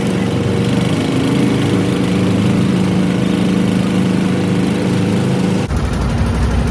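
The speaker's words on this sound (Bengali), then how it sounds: "আমাদের নৌকাটি পিছন দিকে ধাবিত হয়ে সামনে মাথা ঘোরায়ে এবার পদ্মার ব্রিজের দিকে চলতে শুরু করলো।" A boat's engine drones loudly and steadily as the boat travels on the Padma river near the Padma Bridge, with its tone shifting abruptly near the end.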